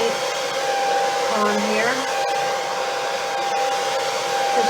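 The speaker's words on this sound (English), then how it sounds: "And I touch the canvas with my hairdryer." A hair dryer blows steady, loud air over wet tempera and acrylic pour paint on a canvas, a continuous whirring hiss with a faint voice speaking briefly over it.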